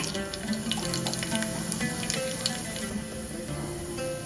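Cinnamon stick, two bay leaves, cloves and a tablespoon of shahi jeera crackle and hiss steadily in hot oil for a vegetable kurma, a continuous close sizzle with scattered pops and no talking.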